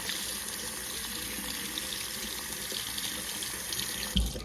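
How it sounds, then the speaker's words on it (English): Steady water running through a Braun Series 5 electric shaver and out of its blades, a continuous close hiss with a brief bump near the end. "the water is going through the razor and coming out the blades"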